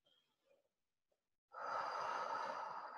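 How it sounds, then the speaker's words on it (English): A deep breath during guided meditation: after a few faint soft sounds and a pause, a long airy exhale or inhale swells close and steady for over a second. "Take a deep breath."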